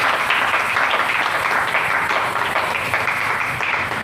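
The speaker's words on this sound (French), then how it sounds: "Acclamons un peu le Seigneur" A church congregation applauds the Lord during a French-language sermon, steady dense clapping sustained throughout, loud and filling the room.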